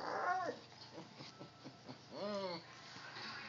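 A cocker spaniel and an American bulldog play over a ball indoors, giving out whiny yelps, short yips and a drawn-out whimpering cry, close and moderately loud in quick uneven bursts.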